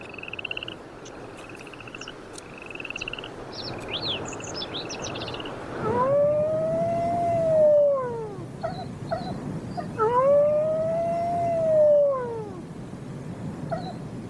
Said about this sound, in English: The famous wolf howl is just one of the ways in which wolves warn or greet each other.